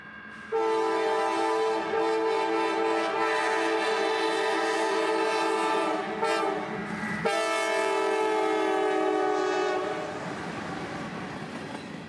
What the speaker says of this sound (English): G396 is one of many grain trains that run around here on the WNA